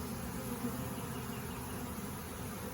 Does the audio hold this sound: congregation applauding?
no